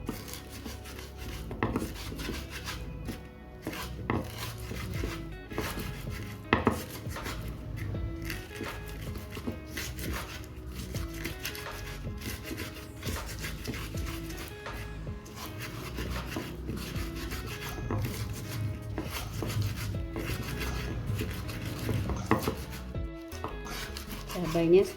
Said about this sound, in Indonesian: Lalu ulek cabai, tambahkan garam juga agar mudah kita ulek cabainya.